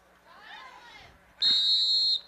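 A referee's whistle blows once, shrill and loud, at a girls' varsity soccer match, following a stretch of faint crowd voices and a softer whistled tone.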